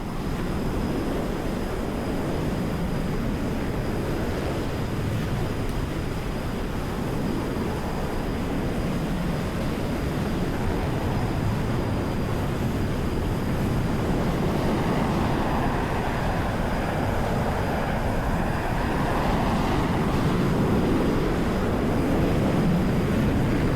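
An F-14B Tomcat jet taxis on an aircraft carrier deck in DCS World, its engines a loud, steady roar that holds unbroken throughout with no voices.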